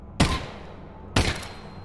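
Two sharp gunshots ring out about a second apart in the VR shooter Half-Life: Alyx, each a loud, close crack with a short decaying tail over a quiet background.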